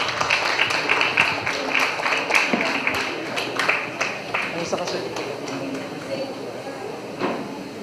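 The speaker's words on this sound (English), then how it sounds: "Let's give them a round of applause." Audience applause at a university ceremony, a steady patter of many hands that is strongest at first and gradually thins out, with crowd noise and a few louder individual claps mixed in.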